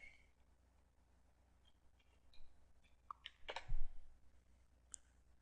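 A computer mouse clicks a handful of times at a desktop, light, close, irregular clicks spread across a quiet stretch, with one louder clatter near the middle.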